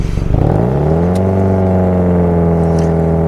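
A car engine revs up hard under acceleration on a road test drive, with rising harmonic pitch that levels into a steady, loud drone with some clatter.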